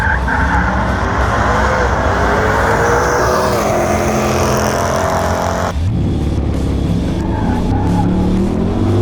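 A Ram TRX pickup in sport mode launches hard from about 2,300 RPM. A loud, sustained engine roar rises with tire squeal, then the engine cuts to a rougher, lower drone.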